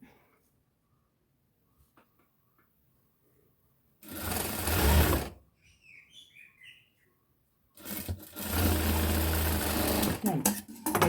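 A sewing machine stitches a fabric sleeve in two bursts of steady rapid whirring, close and loud, with quiet gaps and faint bird chirps between.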